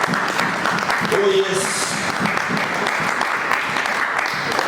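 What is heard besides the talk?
church congregation applauding the Lord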